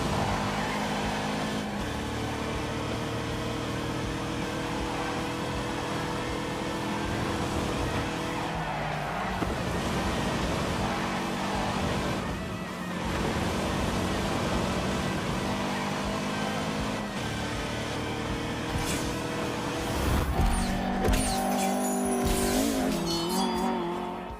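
Ford with a revolutionary twin-cam 1.6-litre engine racing in The Grand Tour Game, its buzzy, high-revving engine note steady and loud throughout, with tyre squeal and skidding near the end.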